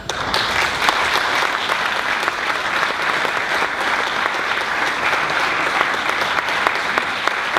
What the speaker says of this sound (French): Vos applaudissements, mesdames, mesdemoiselles, messieurs, pour la magie d'Andiscos